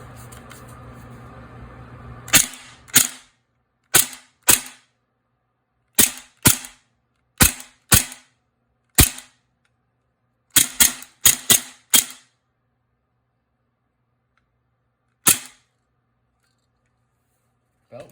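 A CoolFire CO2 dry-fire trainer fires a string of sharp, loud pops with recoil, in irregular single shots and quick pairs separated by silence, with a low hum before the first shot.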